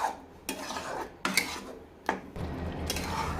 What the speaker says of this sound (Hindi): अब धीरे धीरे भून रहा है मसाला